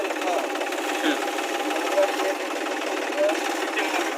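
A tractor engine runs at a steady, rattling idle, a continuous mechanical drone close by with no pauses.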